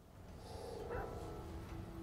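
A dog in the video game Remnant 2 gives a single faint bark or yip partway through, set against steady low game ambience and hum.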